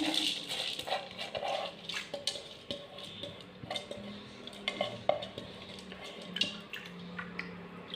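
Lentils (dal) being tipped into a karahi and stirred, with scattered scraping and clinking of a spoon against the metal pan and soft wet shuffling, close and fairly quiet with no talking.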